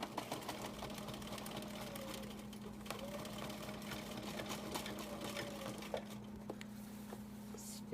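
A home sewing machine runs steadily during free motion quilting, its faint motor hum continuous throughout with soft patter from the fabric being moved under the needle.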